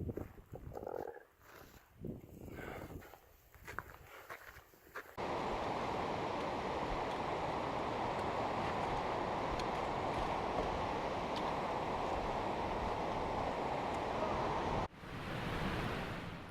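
Yosemite Creek in Yosemite National Park flowing steadily, a dense, even rush of water that sets in after a few seconds of quieter outdoor sound and carries on at a constant level, without speech.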